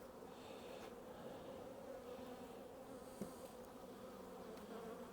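Honey bees buzz steadily inside a queenless hive box in Kentucky during spring preparations, a continuous faint droning hum with no talking.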